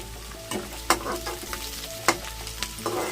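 Onions with mustard seeds, cumin and curry leaves fry in hot oil in a pan, a steady close sizzle broken by a few sharp pops and spatula scrapes.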